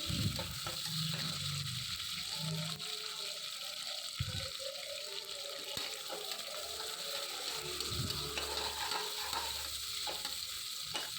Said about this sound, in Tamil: அரிஞ்சு இருக்கக்கூடிய வெங்காயத்தை சேர்த்து நல்லா வதக்கிட்டு